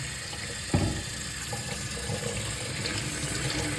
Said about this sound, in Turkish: Şimdi suyumu açıyorum. Ve böyle içeriden dışarıya doğru